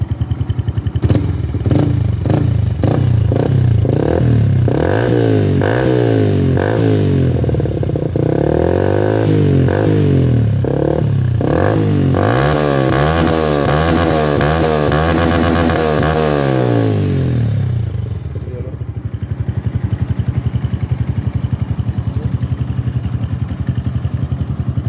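A 2008 Yamaha RX King two-stroke motorcycle fitted with an R9 Mugello racing exhaust, revved hard several times while standing, the engine rising and falling in repeated loud blips before settling to a steady idle, close up and alone.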